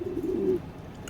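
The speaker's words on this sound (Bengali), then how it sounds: "খুবই সুন্দর একটা কবুতর" A racing pigeon from a loft coos once, a close, low throaty burr lasting about half a second before fading into quiet room noise.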